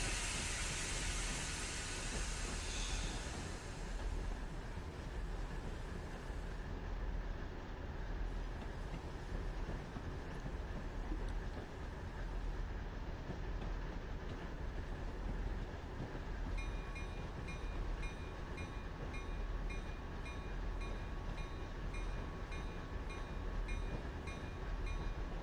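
New York Central train rolling through a track change near Springfield, with a steady loud wheel roar and a thin high-pitched flange squeal ringing above it through much of the clip.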